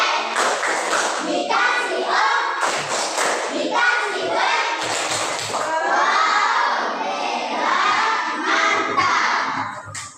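A group of children in a classroom lesson clap and cheer together, a dense, steady mix of hand claps and excited high voices shouting that continues for about ten seconds before tapering off at the end.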